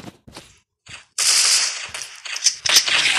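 Gunshot effects from a shooting game burst out in a rapid run of sharp cracks after a few quiet scattered taps, loud and close.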